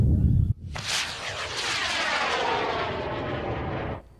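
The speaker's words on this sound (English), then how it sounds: "We have liftoff." Student-built model rocket lifting off at a NASA Student Launch challenge on a farm: after a short low rumble, an abrupt loud roaring hiss bursts in and holds steadily for about three seconds before cutting off.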